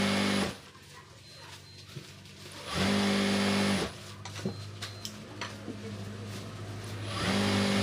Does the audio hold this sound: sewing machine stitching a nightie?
yes